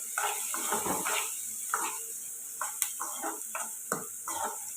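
Onions frying for an egg curry are stirred in a pan, making a soft sizzle with intermittent scraping and light clinks of the utensil against the metal, close and fairly quiet, with no talk.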